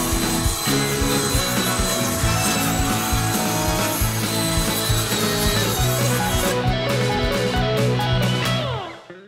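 A wooden board is cut by hand with a handsaw for siding on an outdoor storage shed, with a steady, loud, rhythmic rasp of back-and-forth strokes running close by throughout, then stopping abruptly at the end.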